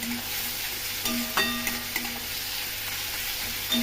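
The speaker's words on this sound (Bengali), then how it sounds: "দেখি পেঁয়াজটা একটু ভাজা ভাজা হয়ে গেছে" Onions fry in a pan with chillies and ginger-garlic paste, making a faint, steady sizzle broken by a few sharp clinks and scrapes as they are stirred.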